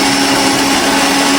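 A mixer grinder whirs at a steady high pitch, blending chicken masala in one loud, continuous run with no speech.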